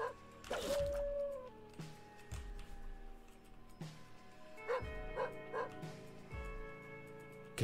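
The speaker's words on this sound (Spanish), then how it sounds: "¿Qué está ladrando?" A dog in the video game The Binding of Isaac: Repentance gives a run of sharp barks and yips, spaced irregularly, with some whimpering tones over a background of sustained game music.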